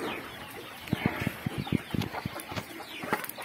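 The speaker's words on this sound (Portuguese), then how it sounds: "Vamos lá ver as galinhas agora." Chickens cluck nearby in a quick, irregular series of short calls, with faint background noise and no clear speech.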